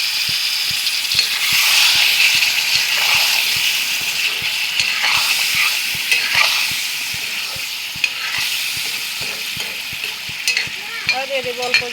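A pan of food sizzles steadily after water is added, with loud, close frying hiss throughout. A spoon scrapes and stirs in a regular rhythm of quick strokes, and no one speaks.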